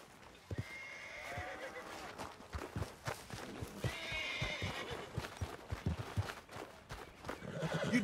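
In Red Dead Redemption 2, a horse whinnies more than once while its hooves clip-clop in a steady walking rhythm, fairly faint and close, with game characters talking in between.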